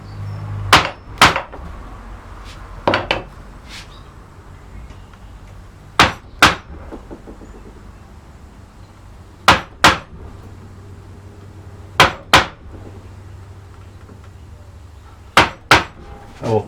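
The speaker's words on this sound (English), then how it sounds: "I'll take that broad gouge that's like a number 7 and chop all the corners off of these rectangles." A broad number 7 carving gouge is struck with a mallet to chop corners off wooden blocks, giving sharp, close knocks in pairs and small clusters, spaced a few seconds apart, with quiet between strikes.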